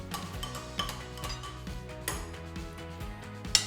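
A spoon clinks against a cup while coffee is mixed with a little water, giving a run of light, regular ticking taps over steady room noise.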